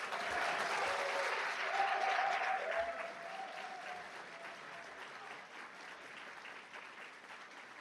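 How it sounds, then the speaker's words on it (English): Sustained audience applause fills the hall at a community college honor society induction ceremony, a dense wash of many hands clapping that swells early then gradually tapers, with a few whoops and a faint sung or held tone mixed in. "Give them one more round of applause."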